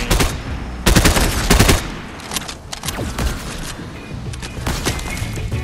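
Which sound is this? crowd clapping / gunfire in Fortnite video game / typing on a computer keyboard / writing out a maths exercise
gunfire in Fortnite video game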